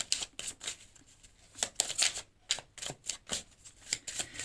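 Tarot cards are shuffled and drawn, giving a quick run of close, crisp flicks and snaps in an uneven rhythm.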